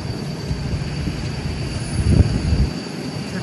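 Skymark airliner at Haneda airport, a steady low jet rumble heard from a distance, swelling slightly midway and continuing under a constant broadband background.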